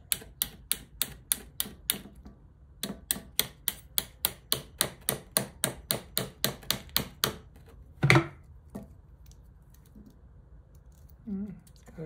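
Light hammer taps strike a Badeco Swiss duplex spring hammer handpiece during a spring replacement, crisp close metallic ticks in two steady runs of about ten evenly spaced blows each, followed by a brief thump and handling noises.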